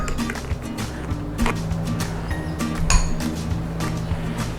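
A spoon clinks and scrapes around a bowl as curry spice mix for roasted vegetables is stirred, with irregular close taps and rattles and no talk.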